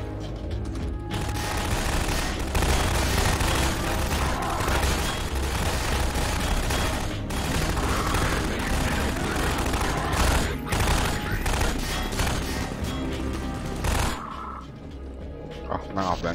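Gunfire in the video game Half-Life 2 during a coastline battle with rebels: dense, continuous volleys of shots and booms layered over one another, loud and sustained, thinning briefly near the end, with a player's voice faintly under the din.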